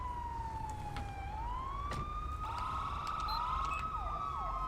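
Police sirens in the video game GTA 5 wail and whoop, rising and falling in pitch with overlapping tones, over a steady low rumble of traffic.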